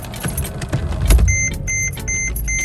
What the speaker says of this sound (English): car is running, battery's done